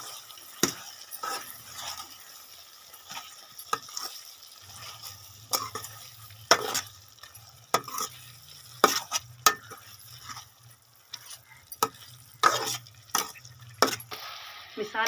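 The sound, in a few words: frying and stirring spiced chicken in a pan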